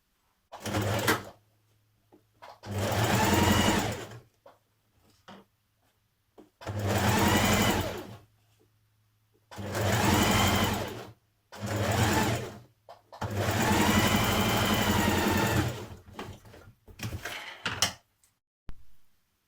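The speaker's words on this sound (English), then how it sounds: "And now we're going to stitch our side seams." Sewing machine stitching the side seams of a Simplicity 1195 occasion dress, running in five loud, close bursts of fast whirring separated by pauses and small clicks, with no talk.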